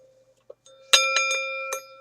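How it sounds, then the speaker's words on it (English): An old bicycle bell is rung several times close by, each strike a bright metallic ding with a sustained ringing tone between hits. "Here's a bicycle bell dating back"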